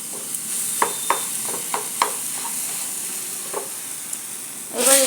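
A jaggery mixture is stirred in a frying pan, with a series of short scraping knocks at an uneven rhythm over a faint, steady sizzle, and a louder scrape near the end.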